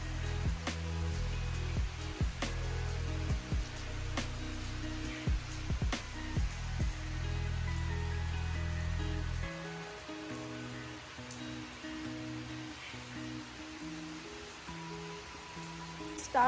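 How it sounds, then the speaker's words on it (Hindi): Heavy monsoon rain pours down steadily in Himachal, a dense close hiss of drops hitting surfaces, with scattered louder splashes and drips; the downpour eases slightly partway through but keeps going without pause. "आपको बैक कैमरा से दिखाती हूँ कितनी ज़ोरों से बारिश लगी हुई है।"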